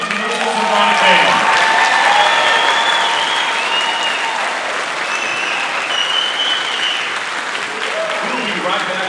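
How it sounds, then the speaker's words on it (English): An audience claps for a middle school symphonic band at a spring concert, a full, close burst of applause that swells early and then slowly tapers off, with a few voices audible within the crowd. "one more applause, please, for the Hudson Middle School Symphonic Band"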